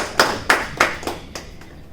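Scattered claps from a small audience at a Hindi poetry gathering, five short separate bursts that fade, sparse and uneven rather than a full ovation.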